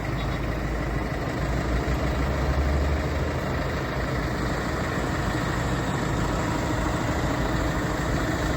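A heavy Solis 105 tractor engine chugs steadily at close range, a constant low rumble with no pauses or voices.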